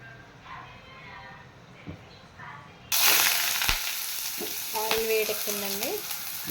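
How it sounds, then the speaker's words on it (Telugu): Onions frying in very hot oil in a home kitchen, a steady loud sizzle that jumps up sharply partway through as they hit the pan, with a voice talking over it. "దాంట్లో ఉల్లిపాయలు వేసి వేపుతున్నారు మరి"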